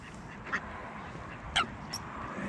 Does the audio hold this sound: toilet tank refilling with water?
no